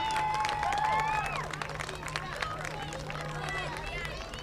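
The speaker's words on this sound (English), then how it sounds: "can we please give a big round of applause for number 42, RJ Reyes and his family" A crowd at a JV football game applauds and cheers for number 42, a broad wash of clapping and voices with whistles mixed in, and people talking underneath.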